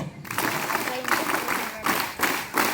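Loud applause from schoolchildren at a school fire-safety workshop and demonstration, a sustained burst of many hands clapping with rhythmic surges, filling the space close and dense.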